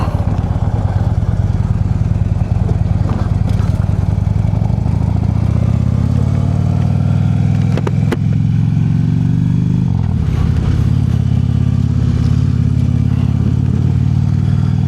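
A motorcycle engine runs steadily and loud throughout, riding on backroads in southwest Minnesota, with a deep rumbling drone, a shift in pitch near the middle, and constant wind noise.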